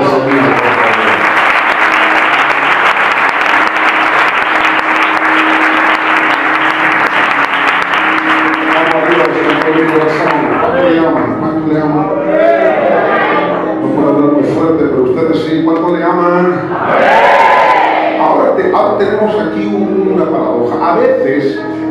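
A church congregation claps loudly and steadily for about ten seconds, then the applause fades under a voice speaking and singing.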